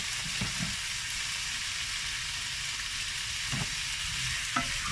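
Bacon lardons and garlic frying over medium heat in a pan, a steady close sizzle broken by a few scraping stirs, with no talking.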